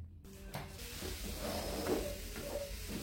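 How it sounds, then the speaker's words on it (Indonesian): Blended spice paste sautéing in a pan with a steady low sizzle and soft stirring scrapes, close and moderately loud, with no talk. "Kita akan tumis dia sampai dia matang."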